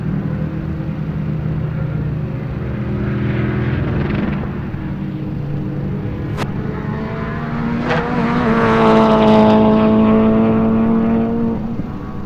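Race car engines roar in the GTA 5 video game during a time attack session, with a WRX and a Mitsubishi among the cars: a steady rumbling drone, then a louder rising rev as a car accelerates past, with no voices.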